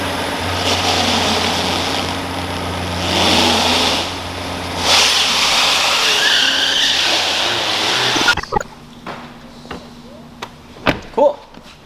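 A McLaren P1 being moved at a photo shoot, its engine a steady mid-pitched hum and rumble for several seconds, then cutting off and leaving scattered clicks and thumps.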